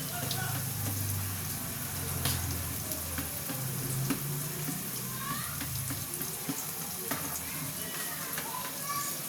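Something fries in a karai for a Bengali peas and chana dal dhoka, a steady close sizzle with faint scraping stirs, running on its own without a break.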